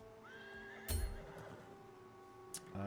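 An Imperial horse in the video game Templar whinnies once, a clear rising neigh, followed by a few soft hoof clops and short game interface sounds.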